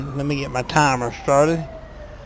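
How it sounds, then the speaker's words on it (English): A police siren from the game Grand Theft Auto V, modded with LSPDFR, wails faintly in the background beneath someone talking and carries on alone for a moment after he stops. "Don't mind the sirens in the background."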